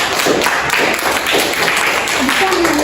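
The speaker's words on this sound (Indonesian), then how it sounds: "Tepuk tangan sekali lagi." A crowd claps together in a steady, continuous burst of applause that carries through the whole stretch at fairly high volume.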